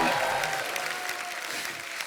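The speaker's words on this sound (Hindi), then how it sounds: "जोरदार तालियां हो जाए।" Steady applause from a TV comedy show studio audience fills the moment, a continuous patter of many clapping hands.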